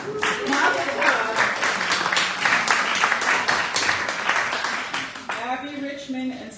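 Relatives at a Milkowitz family reunion clap to welcome newly married cousins, a steady patter of hand claps from a room of people that fades after about five seconds, with talk on a loudspeaker over and after it.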